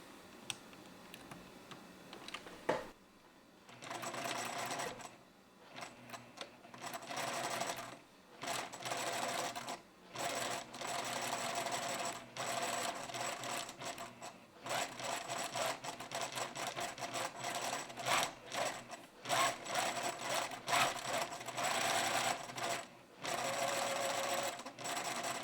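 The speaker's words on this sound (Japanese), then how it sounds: "ポケットの底に6ミリのステッチをかけます。" A sewing machine runs a 6 mm line of stitching across the bottom of a slash pocket, in repeated bursts of rapid mechanical clatter separated by short pauses, close and clear with no voices.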